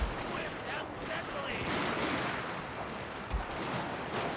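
Musket volleys and artillery fire from a Total War: Shogun 2 Fall of the Samurai battle, a dense continuous roar of shots with a heavier boom near the middle, with a voice talking faintly underneath.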